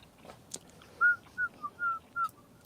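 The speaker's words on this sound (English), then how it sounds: "Did I just hear somebody whistling the Commodore song?" A person whistles a short melodic tune, five or six clear bright notes in a bouncy rhythm, fairly close, with no talking.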